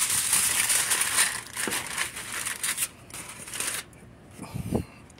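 Aluminium foil crinkled and crumpled by hand while being shaped around a ball for air layering, giving close, continuous crackling rustles in bursts over several seconds, no talk.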